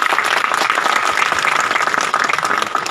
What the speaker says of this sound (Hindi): जोरदार तालियों से उनका स्वागत कर दें